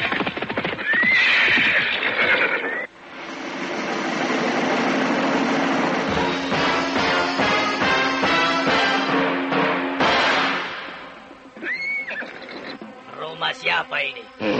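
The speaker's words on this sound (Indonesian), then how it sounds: "mendadak kembali terdengar derap orang-orang berkuda" Horses in a radio drama effect neigh, then hooves drum in a galloping clatter that grows louder as riders approach, ending in snorts and whinnies close by.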